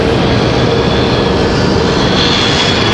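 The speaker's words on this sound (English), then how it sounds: "That arrival, JetBlue 2283 coming in from Boston." A JetBlue jet airliner arriving at Raleigh-Durham International, its engine roar steady and loud throughout, a broad continuous rumble with no talk over it.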